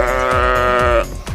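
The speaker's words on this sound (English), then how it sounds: "Sheep." A single sheep bleats loudly and close by, one wavering, drawn-out cry that fades near the end.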